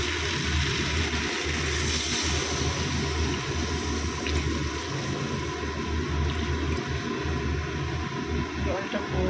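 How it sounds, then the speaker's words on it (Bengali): Water poured into a pan of cooking greens, a steady continuous rush and sizzle that lasts throughout, fairly loud and close. "জল দিয়ে দেবো এটা।"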